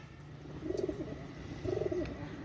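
Two bursts of low, rolling cooing from pet-breed pigeons nearby, including a red-eyed pair, separated by a short pause, with faint background noise.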